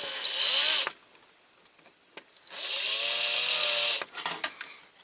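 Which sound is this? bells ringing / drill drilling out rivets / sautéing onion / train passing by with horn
drill drilling out rivets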